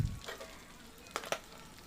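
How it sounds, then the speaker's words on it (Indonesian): Tahu walik, stuffed tofu, frying in hot oil, with a soft steady sizzle and a few brief crackling pops. "Ini kita goreng sampai berwarna kuning keemasan ya."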